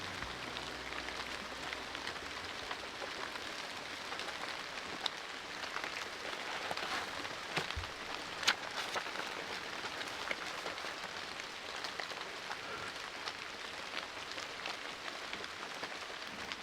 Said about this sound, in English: I just want to sit here and listen to the rain.